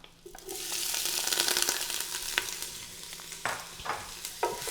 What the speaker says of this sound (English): We'll start with the onions first